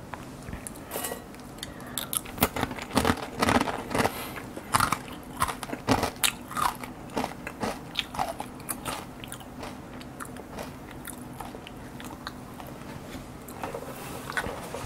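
Crunchy green onion flavored cereal chewed close up in an eating session, with a steady run of loud, crisp bites and crackling crunches and a few soft cutlery clinks, no talking.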